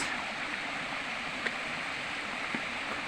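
Steady broadband rush of the waterfall at Miami Falls, a constant even roar of falling water heard up close with no voices.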